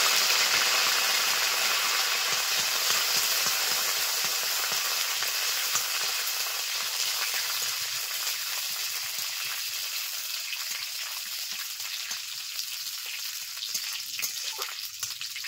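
Mustard seeds and curry leaves fry in hot oil in a pan for Bengali-style poha, a steady close sizzle with faint crackles that slowly eases in loudness.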